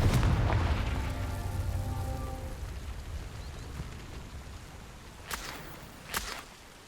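A Confringo blasting spell in Hogwarts Legacy bursts with a heavy, booming explosion that rumbles and slowly decays, followed by two sharp cracking hits a few seconds later, with no talk.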